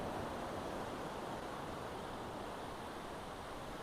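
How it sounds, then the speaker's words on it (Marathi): Sea waves wash on Malvan beach in a steady, broad roar of surf with wind over it, continuous and even, with no voices. "समुद्राचा आवाज येत असेल तुम्हाला,"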